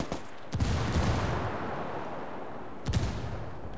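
Gunfire in the video game Ghost Recon Wildlands: two sharp, loud bursts with a rumbling decay between them, played back without any voices.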